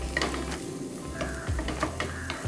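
Thinly sliced shallots sauté in a pan, giving a steady soft sizzle with scattered scraping stir strokes and light clinks, close and continuous with no talk.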